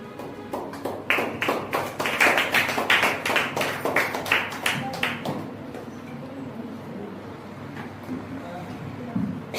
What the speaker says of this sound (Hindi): पवित्र आत्मा का और सीमा का ताली के साथ स्वागत करेंगे